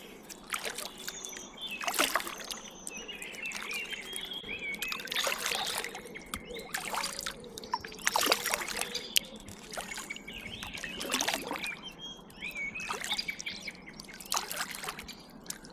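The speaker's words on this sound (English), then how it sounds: "You're sort of paddling along here" Gentle water splashes and trickles from kayak paddle strokes on a river recur every couple of seconds, with birds chirping in the background outdoors.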